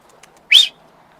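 A single short, sharp human whistle rises in pitch to scare pigeons into flight. It is loud and close against a quiet background, with a few faint clicks just before it.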